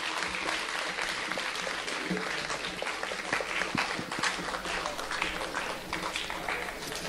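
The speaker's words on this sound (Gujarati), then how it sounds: "આપણે એમને જોરદાર તાળીઓથી વધાવી લઈએ" Applause rolls through a hall at a speaker contest prize distribution, many hands clapping at a distance in a dense, even wash, with scattered voices and crowd noise mixed in.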